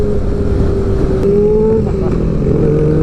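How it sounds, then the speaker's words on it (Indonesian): A first-generation Yamaha R6 with its standard exhaust drones loudly and steadily up close, its engine pitch rising slightly as it revs, with no talk over it. "Knalpot standar aja tapi suaranya juga enak banget ya."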